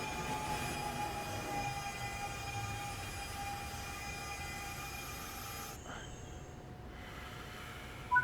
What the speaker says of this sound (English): This is Train Sim World 6.